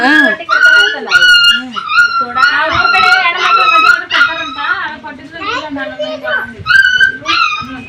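A dog yelps, yips and whimpers repeatedly at close range during a North Karnataka wedding function, mixed with loud talk nearby.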